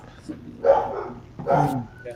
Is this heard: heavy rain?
no